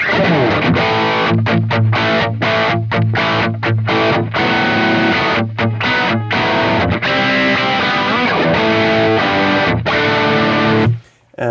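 A crunchy, overdriven electric guitar through a Marshall Studio Vintage SV20 plexi amp plays chunky riffs with short stops between chords, loud and close, ending abruptly.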